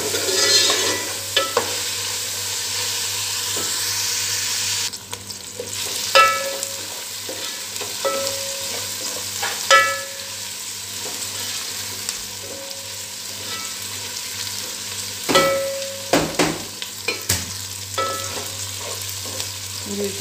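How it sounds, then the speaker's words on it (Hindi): Masala for kadhi pakora frying in a pan: a steady close sizzle runs throughout while a spoon stirs and scrapes intermittently, with no talking. "इसको हम थोड़ा सा भूनते हैं।"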